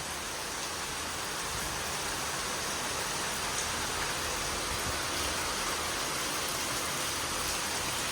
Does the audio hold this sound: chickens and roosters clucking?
no